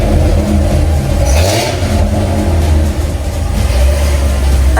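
A 1000 rwhp race car engine with stock mufflers revs loudly nearby, a deep, rough roar that rises and falls through several throttle blips without a break.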